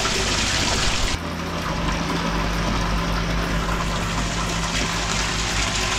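A pond pump running at full power circulates water in a plastic koi fry grow-on tank, producing a constant close rushing and gushing with a low steady hum, briefly louder at the start.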